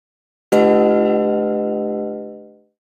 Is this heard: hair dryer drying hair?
no